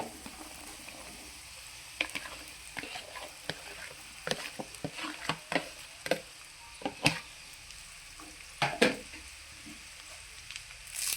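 Carrot pieces are stir-fried in tempering oil with a low, continuous sizzle, punctuated by irregular bursts of spatula scrapes and clinks against the pan, close and fairly quiet.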